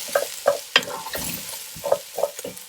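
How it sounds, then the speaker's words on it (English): Flour stirred into a sauce in a pan for boeuf bourguignon, a spoon scraping and tapping the pan in an uneven rhythm over a soft sizzle, close and clear, with no talking. "And the only reason I'm putting this flour in is to slightly thicken the sauce a bit. Stir that around."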